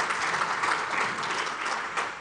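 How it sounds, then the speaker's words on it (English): Brief, dense applause from a conference audience for panelists, an even wash of clapping throughout with no talk over it. "Can we again give a round of applause to our panelists?"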